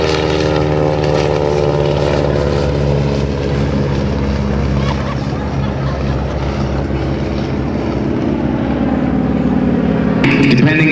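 An open cockpit biplane flies low and slow at an airshow, its propeller engine droning loud and steady with a strong rumbling hum that swells slightly toward the end.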